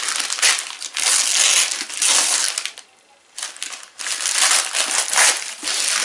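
Gift wrapping paper crinkles and tears loudly and close up in several long bursts, with a brief pause in the middle.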